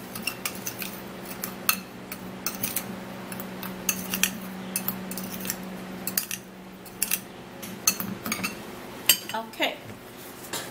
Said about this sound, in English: That's 3 tablespoons, and I'm gonna be mixing that.